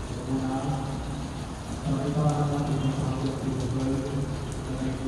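Steady rain drips through a hole in a leaking roof onto a surface nearby, a continuous wash of droplets with faint background murmur underneath.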